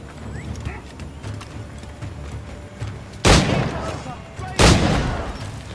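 Two loud, booming video game explosions in Assassin's Creed IV: Black Flag, about a second apart, cut through busy background noise, each decaying into a rumbling tail.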